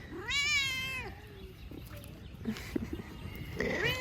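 A cat lets out a long, drawn-out meow, followed by quieter shuffling and a second meow starting at the end.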